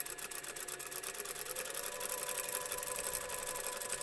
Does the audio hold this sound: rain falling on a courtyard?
no